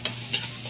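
Chicken adobo with chicken cubes and pepper gets stirred in a pan: a short burst of steady sizzling with a couple of scraping swishes, close and alone without talk.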